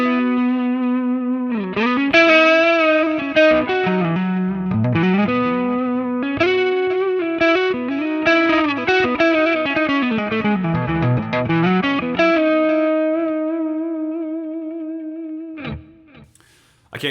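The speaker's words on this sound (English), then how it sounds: "playing with a low gain lead tone like that, with just a really cool delay on it" A singing electric guitar lead with a low-gain, mildly distorted amp-plugin tone plays a flowing melody, notes trailing into delay repeats, ending on a long sustained note followed by a few faint clicks.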